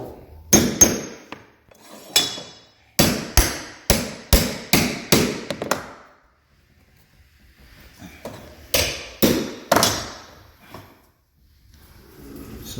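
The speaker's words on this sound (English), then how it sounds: "Then I line up my chisel over that hole." A chisel is hammered into a hole in a wooden handrail: two bursts of sharp, evenly paced hammer strikes, about eight blows then a pause and four more, loud and close, with faint rustling in the gap.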